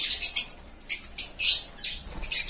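Sable Opaline pet birds in a cage chirp in quick, bright bursts of high tweets, several calls close together and fairly near, with no talking.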